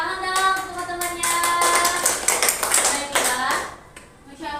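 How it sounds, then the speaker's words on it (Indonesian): Elementary school children in an Indonesian classroom clap their hands together in a sustained burst of applause, with young voices calling out over the clapping before it fades near the end. "Tepuk tangan dong teman-temannya."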